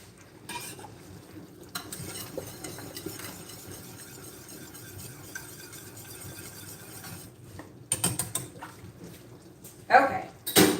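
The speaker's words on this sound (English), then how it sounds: "Stir, stir, stir, huh?" Sauce for an enchilada rice bake stirred in a pan, soft scraping and rubbing strokes with light utensil clinks, sharper clatters near the end, while a person talks.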